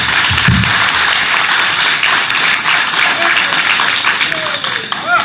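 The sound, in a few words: audience applause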